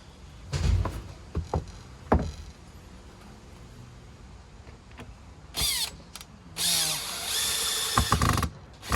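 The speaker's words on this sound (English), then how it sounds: "I'm going to screw it back on the board and start working on it again." A power drill drives a screw into a board on an outdoor carving bench. Several short whirring bursts and knocks come first, then longer, louder runs of the motor spinning up near the end, close by.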